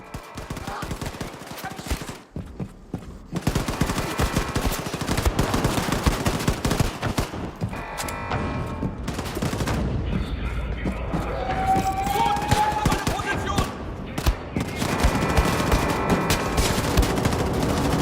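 Gunfire from a first-person shooter on Nintendo Switch, dense bursts and volleys running almost continuously under game music and effects, with a short quiet gap early on.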